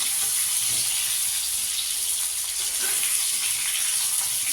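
Pointed gourd fries in a pan with a loud, even sizzling hiss that barely changes, close and unbroken, without speech.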